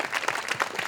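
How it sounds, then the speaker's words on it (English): An audience at an outdoor Juneteenth heritage walk breaks into a brief burst of applause, a dense patter of clapping hands nearby. "Big round of applause."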